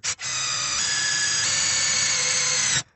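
Compact cordless drill boring through a metal sheet, a loud, steady high whine after a brief start and stutter, its pitch stepping up partway, then cutting off abruptly.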